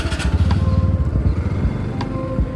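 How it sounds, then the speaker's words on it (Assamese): A scooter engine idles with a steady low putter and a few sharp clicks, close by and fairly loud, with no voices. "এয়া স্কুটাৰ ষ্টাৰ্ট দি ল'লোঁ"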